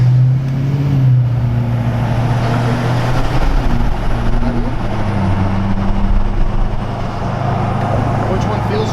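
A tuned L5P Duramax diesel truck runs on a dyno. It makes a loud, continuous low engine drone with slight shifts in pitch, and voices talk over it.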